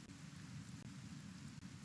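Steady acid rain pouring in the Kenshi video game, a dense, even hiss of rainfall with a low rumble underneath and no voices.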